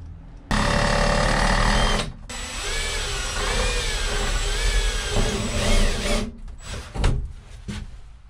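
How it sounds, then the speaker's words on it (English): A power drill with a larger bit boring a hole from the top side through the roof of a 5x8 cargo trailer, a loud whining grind that starts abruptly, stutters briefly, then labours on with shifting pitch before stopping. "I'll take a larger drill bit, drill a bigger hole through the roof from the top side"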